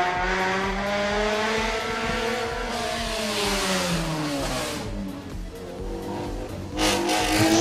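A Formula McLaren EFI race car takes a tarmac corner at a circuit, its engine note rising and falling continuously as it revs and shifts, loud and close, with a brief tire squeal and a second surge near the end.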